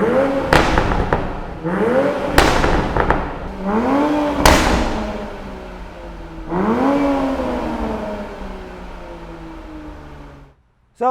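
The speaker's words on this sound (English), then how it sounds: "static revving this car, got to admit, sounds pretty cool" A 2020 Toyota Supra engine revs sharply several times from idle while stationary, each blip rising then falling away, with loud exhaust barks and a final cut-off.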